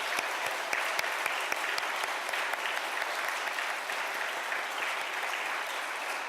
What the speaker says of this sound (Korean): 우리 정말 마음의 기쁨과 감사의 심정을 담아서 우리 박수로 한번 격려 인사드리겠습니다